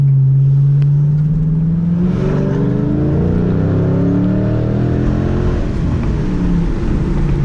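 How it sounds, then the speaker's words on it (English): A Ford Mustang GT V8 with a MagnaFlow exhaust and its catalytic converters removed revs loudly up close, a deep throaty roar that climbs and settles in repeated sweeps, heard alone without talking. "I like the MagnaFlow exhaust."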